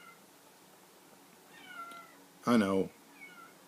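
A farm cat lets out one loud, close, drawn-out meow, with a few softer cat sounds around it and a man's brief quiet speech nearby.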